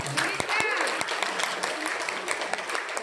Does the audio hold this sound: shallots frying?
no